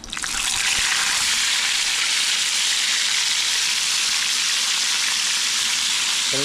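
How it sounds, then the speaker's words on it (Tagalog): Loud, steady sizzling of fish frying in hot oil, close up and continuous, with a faint clink at the start and no talking. "Pangalawang prito na po ito."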